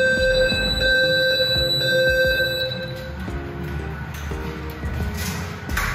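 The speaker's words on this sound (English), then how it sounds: "after we heard the occupant warning system" An Ampac FireFinder Plus fire alarm occupant warning system sounds indoors during a test, giving steady electronic tones that step between pitches in a repeating pattern at moderate volume, with no speech.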